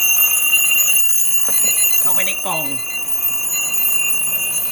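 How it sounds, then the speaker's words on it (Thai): A loud mechanical alarm clock rings steadily inside a box during a soundproofing test with sound-absorbing panels. Its shrill, continuous tone runs throughout while someone speaks briefly over it. "แล้วเราก็จะเพิ่ม นาฬิกาปลุกอีกเรือนครับ ซึ่งดังมาก"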